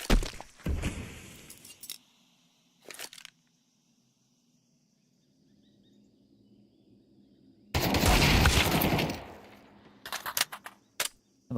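Counter-Strike 2 esports match gunfire: scattered short shots early, then a loud sustained burst of automatic fire midway, followed by several sharp isolated shots, with quiet ambient stretches between.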